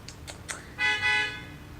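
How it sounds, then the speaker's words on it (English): A car horn honks outside: a few short, faint toots followed by a louder sustained blast of about half a second, heard at some distance with no voices. "it's too early to be honking"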